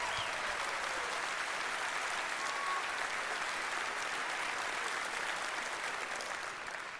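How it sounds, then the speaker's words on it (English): A large audience at the E3 gaming expo applauds steadily after a game demo, dense clapping filling the space without pause and holding the same level throughout. "can I please get another round of applause for that man?"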